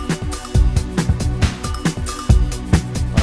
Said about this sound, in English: And then I will get myself a drum loop.